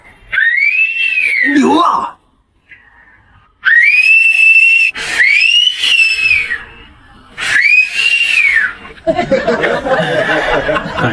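A man whistles loudly and clearly several times in rising and falling wolf-whistle phrases, as if at a pretty woman, broken by short pauses, with a shout and laughter in between and at the end.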